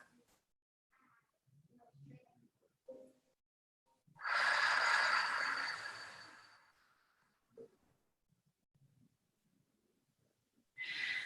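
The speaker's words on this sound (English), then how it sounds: "1 more full breath" One deep, full yoga breath, a long airy inhale and exhale lasting about two seconds. Soft, faint rustles and movement come before and after it, and another breath begins at the very end.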